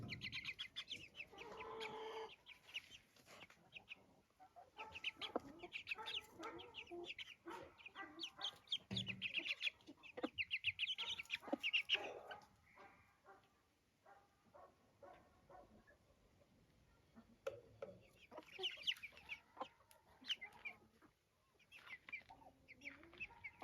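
Silkie chickens in an aviary cluck and murmur in irregular bursts, with occasional louder calls and quiet gaps, fairly faint and close, no talking.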